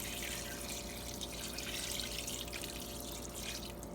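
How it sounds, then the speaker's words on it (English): Beef stock pours steadily into a Ninja Foodi cooking pot, a soft, continuous liquid splashing and trickling heard close up with no talk. "We're going to take the rest of the beef stock. I'm just going to pour it in."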